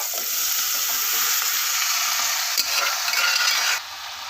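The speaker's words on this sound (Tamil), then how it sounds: "இப்போ நல்லா கிளறி விட்டுடலாம்." Green gram tossed with sautéed onions and curry leaves in a pan, a steady close scrape-and-hiss of stirring with a light sizzle throughout, no voices.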